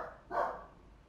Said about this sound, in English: Sorry, my dogs are barking in the background here.